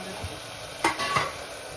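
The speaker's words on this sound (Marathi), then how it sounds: "आता कांदा तांबट गोल्डन होईपर्यंत थोडा शिजवत ठेवायचा." Sliced onion with garlic, ginger and whole spices frying in a pan, a steady soft sizzle with a couple of spoon stirs and scrapes against the pan, with no talking.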